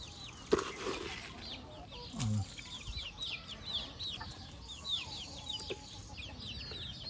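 Hens cluck softly inside a chicken coop, a scatter of short repeated calls at middle distance over faint background noise, with a couple of brief bumps and knocks.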